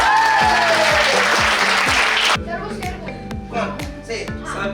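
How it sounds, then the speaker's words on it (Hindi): A group of students bursts into dense, loud applause for about two seconds, then it cuts off, leaving chatter and a repeating low rhythmic beat underneath. "सर पहले ही ताली बजाए।"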